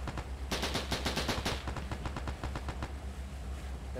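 Machine gun fire in Arma 3 during a World War II Pacific campaign mission, a steady, rapid chatter of shots that swells into a loud burst and then continues at a slightly lower level, with no voices.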